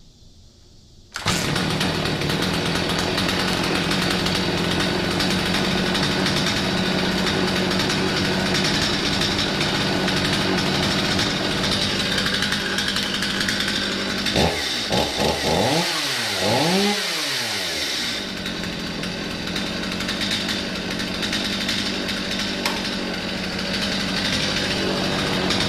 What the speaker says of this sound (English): Now the saw starts and idles just good.